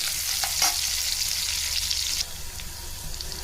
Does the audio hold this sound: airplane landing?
no